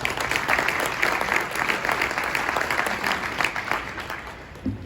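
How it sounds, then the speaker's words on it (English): An audience applauds a judge at an administrative judge archives dedication ceremony, steady dense clapping filling the room for several seconds with no talking. "Give her a round of applause."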